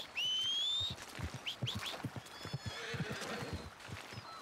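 A horse in the Red Dead Redemption 2 video game gives a shrill whinny, followed by a run of clip-clopping hoof steps and a few short squeals, close and clear.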